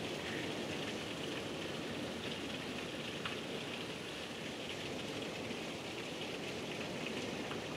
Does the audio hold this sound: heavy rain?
yes